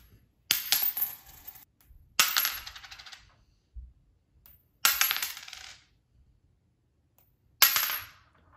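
A nickel is flipped and lands in four separate impacts, each a sharp, bright metallic clink with a short ringing tail, set apart by quiet gaps.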